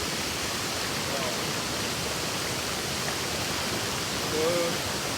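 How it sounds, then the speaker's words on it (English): A brook waterfall on the Thiba River in Kirinyaga, Kenya, rushing as a dense, steady, loud roar of falling water heard close up throughout. "It's a brook waterfall, as you can see it, and beautiful."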